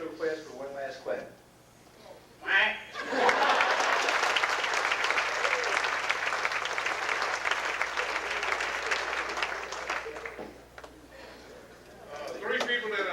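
A banquet audience at a football awards dinner breaks into sustained, full-room applause lasting several seconds, with someone talking briefly before and after the clapping.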